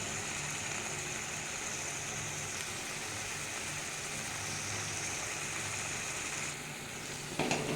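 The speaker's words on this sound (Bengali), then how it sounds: "এই জল পুরো শুকিয়ে ভাজা ভাজা করতে হবে লোটে মাছ করতে অনেক টাইম লাগে" Bombay duck (lote fish) frying in a pan: a steady, faint crackling sizzle runs evenly throughout, dipping briefly near the end before a small clatter, with no speech.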